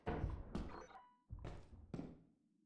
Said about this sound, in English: That sounded like a thumper